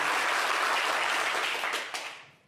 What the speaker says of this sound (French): Applaudissez pour toi